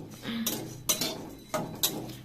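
Coriander seeds dry-roasting in a hot pan give a run of rattling, scraping clatter with several sharp bursts, like seeds skittering and popping against metal, close and fairly loud.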